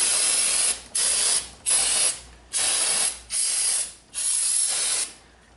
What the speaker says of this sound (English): I'm going to take and clean everything down with brake cleaner.